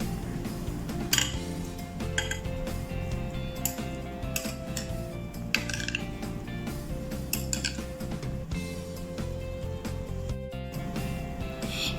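Mexican salad being tossed with dressing in a bowl, a steady run of close light clinks and scrapes of utensil against dish with a low continuous background hum.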